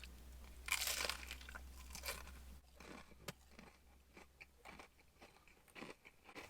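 Crisp crunching bites into a fried potato scallop, a loud first crunch followed by softer chewing and crackles up close.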